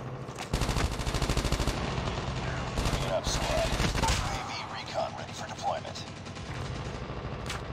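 Rapid automatic gunfire in Call of Duty Mobile multiplayer, dense bursts of shots rattling for several seconds, then thinning into scattered sporadic shots, with game effects behind.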